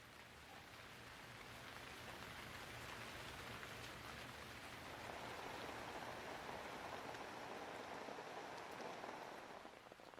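Steady rain pours down across a surface, a dense continuous hiss with pattering drops, close and even throughout.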